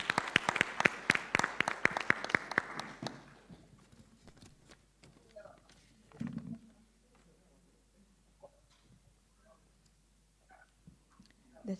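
An audience at a State Interests and Governance Authority event claps loudly for about three seconds; the applause then thins to a few scattered claps, followed by quiet room sounds and faint movement.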